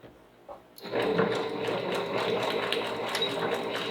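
A sewing machine stitches vines onto a raw-edge appliqué fall sampler quilt block, starting abruptly after a short quiet moment and then running as a steady, close mechanical whir.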